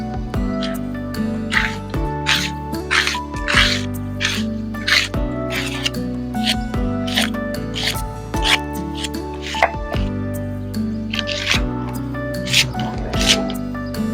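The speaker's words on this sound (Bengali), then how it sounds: "আমি ততক্ষণে কিছু মশলা বেটে নেব।" Whole cumin seeds ground by hand on a stone for a Bengali duck egg and eggplant dish, with repeated thudding and scraping strokes over steady background music.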